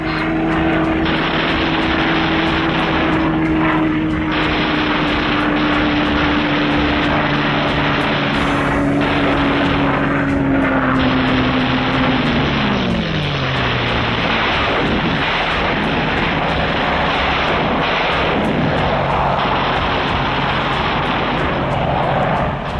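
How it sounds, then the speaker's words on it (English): Propeller fighter planes roar past at maximum speed in a continuous, loud, dense engine drone with a steady droning pitch that sweeps downward midway as they pass, all under heavy wartime footage noise. "Skimming along at maximum speed, the fighters pair off and go to work"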